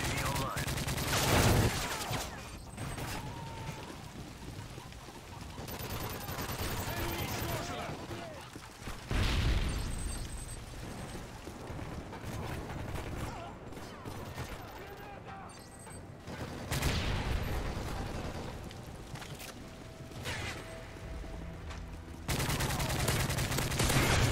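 Chaotic Call of Duty: Modern Warfare 3 multiplayer battle audio with repeated bursts of gunfire and explosions layered over game music and effects, loud and continuous throughout.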